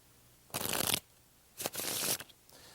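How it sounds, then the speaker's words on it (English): Playing cards being shuffled in the hands with a waterfall shuffle following a riffle: two bursts of rapid, crisp fluttering card noise, close and clear, with no talking. "This is called the waterfall shuffle and happens immediately after an in-the-hands riffle shuffle."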